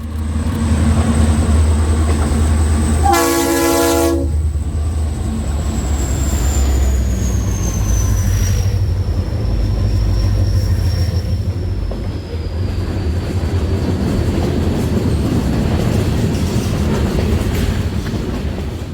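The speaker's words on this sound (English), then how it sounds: "where the 4 EMDs now have the train rolling" A long freight train pulled by four EMD diesel locomotives rumbles steadily past on the Maryland Midland Railway, low engine drone and rolling wheel noise, a horn blast sounding briefly early on.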